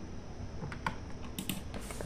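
Typing on a computer keyboard of a thin-client mini PC running Ubuntu Linux: a scattered run of quiet, irregular key clicks, up close with no talk.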